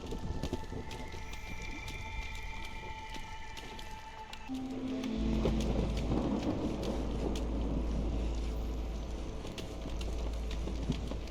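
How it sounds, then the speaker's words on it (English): Rain falls steadily with rolling thunder in the video game Against the Storm, a storm swelling midway into a loud, deep rumble that holds under continuous rainfall and game ambience. "But we're about to hit our first storm"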